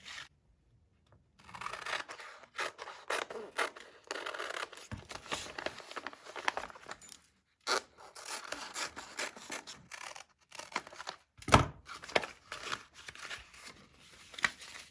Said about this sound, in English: I'm going to grab my paper scissors and just cut along here and cut along there.